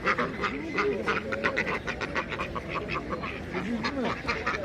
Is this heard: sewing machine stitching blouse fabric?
no